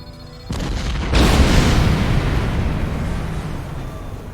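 Loud space-battle explosions from Star Trek Online: a heavy boom lands about half a second in, then a bigger blast follows and rumbles on, slowly fading, with no talk over it.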